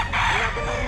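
Rooster crowing at a market in Bocaue, a single close, loud, brief crow with a strained, raspy tone.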